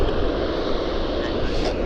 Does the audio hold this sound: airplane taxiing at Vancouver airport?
yes